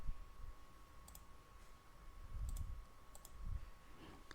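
A few faint, sparse computer mouse clicks, made while selecting a game mode on a website, sit over a steady low hum in a quiet room.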